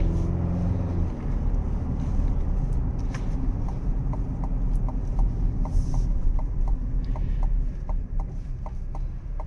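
2024 Chevy Colorado Z71 pickup truck accelerating on a main road, with steady low engine and road rumble under a regular, evenly spaced ticking that repeats through the run.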